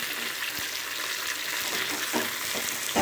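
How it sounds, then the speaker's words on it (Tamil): Chopped vegetables sizzle and fry steadily in a hot pan for carrot soup, with occasional stirring scrapes and knocks, close and continuous, no talking. "இதை கொஞ்சம் நல்லா வதக்கி விட்டுட்டு அப்புறம் தக்காளி சேர்க்கலாம்."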